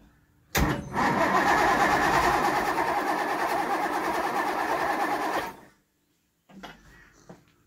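A 1964 Triumph 2500's engine cranks hard for about five seconds with a loud, close, steady churn. It fails to catch, stops, and then a few faint clunks follow.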